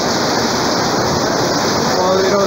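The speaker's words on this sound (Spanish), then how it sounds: "Poderosísima lluvia" A powerful downpour in Arequipa roars continuously at close range, dense and loud throughout, with a faint voice-like whistle near the end.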